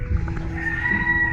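Chickens on a farm give a short burst of low clucking and fowl calls, a few overlapping voices heard close with no talk.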